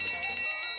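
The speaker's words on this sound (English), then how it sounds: "who can forget the dinner bell?" A dinner bell rings in a short bright metallic burst, high shimmering tones with a couple of quick strikes, close and clear.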